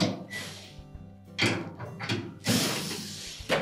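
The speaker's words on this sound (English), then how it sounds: "So just loosen that bottom screw a little bit." A screw is loosened on the brake stator assembly of a Whirlpool washer, heard as several close, short bursts of clicking, ratcheting mechanical sound separated by brief pauses.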